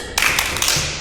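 A single burst of hand clapping during a children's Sunday school worship service, a quick flurry of close, sharp claps lasting under a second.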